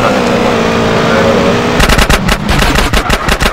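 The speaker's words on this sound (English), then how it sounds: "Oh, you're shooting at me." Gunfire in Grand Theft Auto San Andreas, a steady engine-like drone that breaks into loud rapid bursts of shots, a fast rattling volley up close filling the last half of the clip, no speech.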